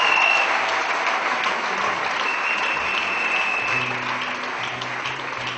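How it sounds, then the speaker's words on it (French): An audience at a Children Week evening event applauds with dense, continuous clapping that holds steady throughout, with faint tonal sounds underneath. "Sur vos acclamations, s'il vous plaît"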